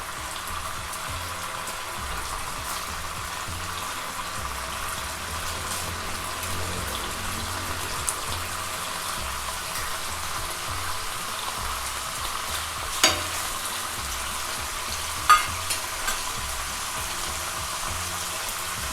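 Squid heads fry in a pan, probably a covered one, making a low, steady sizzle with soft crackling. A few sharper pops or taps stand out near the end, and no voices are heard.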